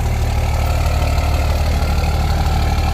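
Cummins diesel engine idling through a 5-inch stainless steel exhaust with a small turnout, giving a steady, loud, deep rumble that holds constant for the full stretch with no talk over it.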